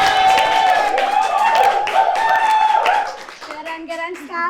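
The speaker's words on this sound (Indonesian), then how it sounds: "tepuk tangan" Schoolchildren in an Indonesian school program clapping along, a burst of hand claps mixed with excited young voices and cheering that fades around three seconds, giving way to children talking.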